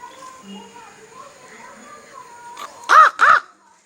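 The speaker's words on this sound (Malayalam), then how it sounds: "ദേ കാക്ക വന്നിട്ടുണ്ട്" Two loud, harsh crow caws in quick succession ring out near the end, after quieter background murmuring.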